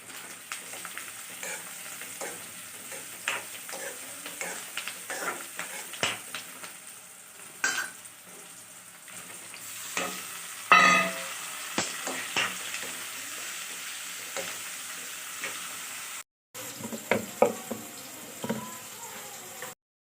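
Mushrooms fry in a kitchen pan, a soft continuous sizzle under repeated scrapes and clinks from a spoon stirring against the metal, close and fairly quiet, with a brief sharper clatter partway through.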